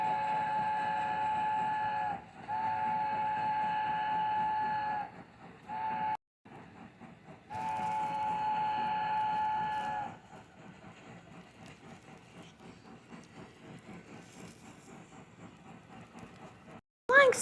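The Flying Scotsman steam locomotive runs past, sounding long, steady whistle-like blasts broken by short gaps over a rumble. A quieter, rhythmic running sound follows.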